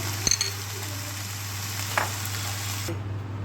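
Yogurt-marinated mutton fries in oil with browned onion, giving a soft, even sizzle over a low background hum, with a few light clicks and a faint scrape near the start.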